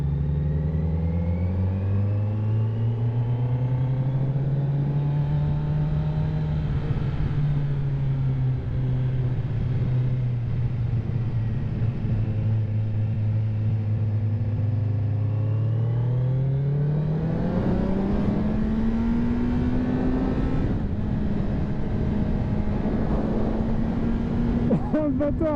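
A 2024 Kawasaki Z900 A2 four-cylinder motorcycle engine revs up and holds, its pitch rising and falling in long sweeps before climbing higher, loud and close throughout.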